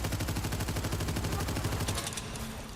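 Rapid, evenly spaced gunshots from a player firing in the video game Abyssus, a loud steady stream of shots that cuts off after about two seconds, leaving a quieter game background.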